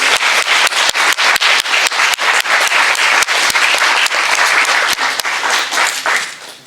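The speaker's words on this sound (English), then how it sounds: "one more round of applause, please" A graduation audience at a Kwinana Industries Council women's program gives loud, continuous applause of many hands. The clapping is dense and sustained, then fades away toward the end.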